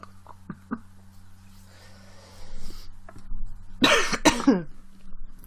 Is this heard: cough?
yes